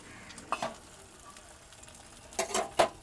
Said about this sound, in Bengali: আমাদের ডিমের যে মিক্সারটা সেটা দিয়ে দিলাম